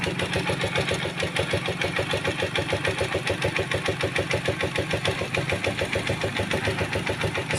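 A Rusi Macho 150 motorcycle engine idles steadily after a tune-up, a smooth, even mid-pitched putter with a regular pulsing beat, close and continuous with no knocking.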